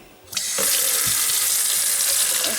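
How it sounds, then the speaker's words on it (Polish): Warm water gushes from a tap into a clean bucket, starting abruptly after a brief quiet moment and then running as a loud, steady, close rush with no voices. "Do wiaderka wcale nie brudnego nalejemy ciepłej wody."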